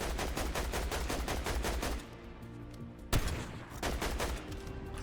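Rapid automatic weapon fire in Fortnite rattles loudly for about two seconds, then pauses before a single sharp shot and a few more scattered bursts, with no talking.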